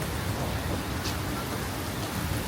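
Heavy rain pours steadily in Singapore, a dense, even hiss of downpour that fills the whole short stretch without a break.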